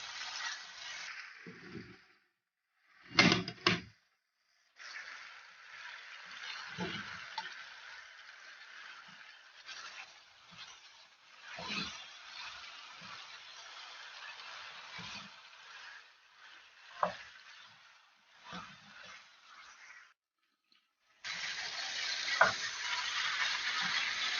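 Meat fries in a pan with a steady hiss and sizzle, while a spoon stirs it with occasional scraping knocks; the sizzle stops briefly, then returns louder near the end.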